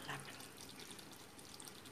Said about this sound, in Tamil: இப்போ இந்த ஸ்டேஜில் நம்ம தண்ணி ஆட் பண்ணிக்கலாம்.